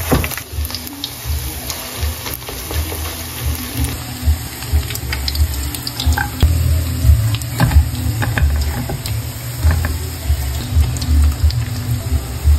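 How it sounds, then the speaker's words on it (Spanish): Rice torreznos patties made from a flour-thickened mixture sizzle and crackle steadily in hot frying oil, a continuous close sizzle with scattered pops and scraping stirs, no voices. "Y ya que está bien revuelto, lo vamos a pasar al aceite."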